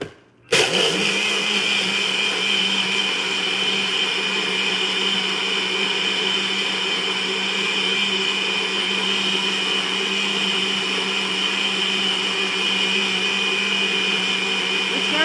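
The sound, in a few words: blender blending a coffee smoothie with frozen banana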